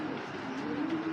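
Netherlands pigeons coo softly at close range, a low, steady hum of cooing held through a short moment.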